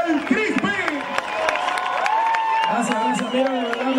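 Crowd at a merengue concert in Altos de Chavón applauding and cheering for the singer, a steady wash of claps and shouts filling the whole stretch, with voices calling out over it.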